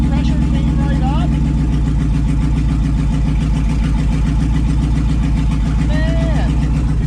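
An old, neglected parts truck engine starts and settles into a steady, loud, rhythmic idle close by, with people talking over it throughout.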